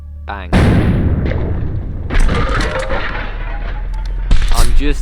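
A 12-gauge shotgun fires in a Russian roulette video game: a heavy boom at about half a second, a second blast near two seconds and another near four and a half, with game effects and rumble in between.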